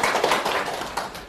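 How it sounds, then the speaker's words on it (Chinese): Students in a classroom applaud in a brief, dense burst of clapping that stays fairly even and loud for just over a second. "我不是有意的要掌声啊"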